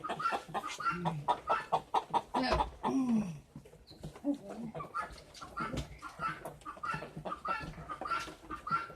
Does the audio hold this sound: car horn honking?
no